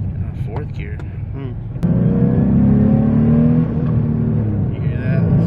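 Turbocharged Nissan 370Z with a 500+ hp build accelerates hard in fourth gear, the engine note rising into a loud, steady, close roar after a sudden jump in power, with faint voices heard early on.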